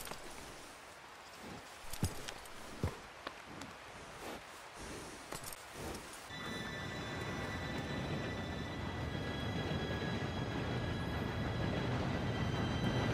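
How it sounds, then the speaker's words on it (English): Train arriving in Red Dead Redemption: scattered clicks and clanks, then a loud, steady rumbling roar with a high metallic whine that holds to the end, with no talking. "Train should be here any minute now."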